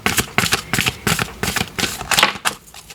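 Tarot cards are riffled and shuffled in quick, crisp bursts, roughly a dozen papery flicks close to the listener.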